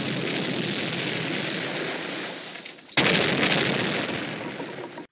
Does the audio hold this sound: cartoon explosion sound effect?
yes